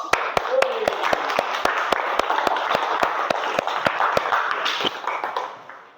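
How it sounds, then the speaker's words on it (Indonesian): An audience in a classroom claps after a group presentation, with steady, fairly loud applause and sharp individual claps standing out over the crowd, fading away at the end. "Lah, kita beri aplaus."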